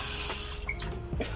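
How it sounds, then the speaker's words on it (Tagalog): Tap water runs steadily into a cooking pot for a broccoli and liver dish, a continuous close splashing rush that shifts slightly as the pot fills. "Lagyan natin ng tubig."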